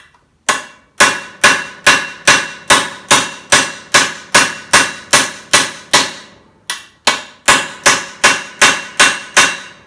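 Steady hammer blows on a steel fender patch panel for a 1957 Chevy, about twenty sharp, ringing metallic strikes in an even rhythm with one brief pause, loud and close with no talking.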